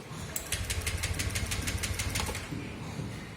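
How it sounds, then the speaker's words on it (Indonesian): A motorcycle engine with its fuel injector socket unplugged is cranked over and over without firing, giving a steady run of rapid rhythmic starter pulses that stops abruptly, close and moderately loud. "kita on-kan, hidupkan lebih dari 1 kali sampai benar-benar mesin tidak bisa hidup"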